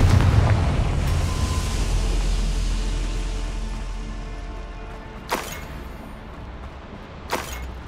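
A Confringo spell blast in Hogwarts Legacy on PS5 opens with a loud booming burst that fades into a long rolling rumble, followed by two sharp cracking impacts a couple of seconds apart, with no voices.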